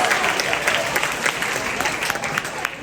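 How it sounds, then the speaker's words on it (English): A middle and high school audience applauds a returning alum as he is introduced on stage, with brisk, steady clapping at moderate volume and a few voices under it. "Give him a round of applause."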